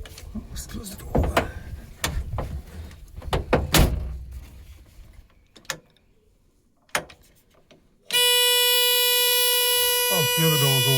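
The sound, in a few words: closing the door of a VW Type 2 van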